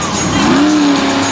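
A monster truck at a Monster Jam stadium show, running with a fault, gives a loud, steady engine roar with a rising whine, brief and close.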